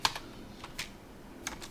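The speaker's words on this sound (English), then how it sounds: "I'm typing so run, so run." Someone types on a computer keyboard while entering Cisco switch commands, giving a few soft, scattered keystrokes in short bursts against a quiet background.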